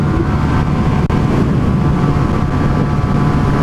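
Motorcycle engine roar at sustained high revs near top speed, around 102 km/h, blended with heavy wind rush, loud and continuous throughout.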